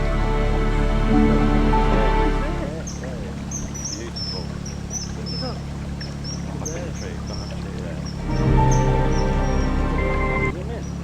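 High, thin piping kingfisher calls repeat over the steady drone of a canal boat engine, with occasional water sounds nearby.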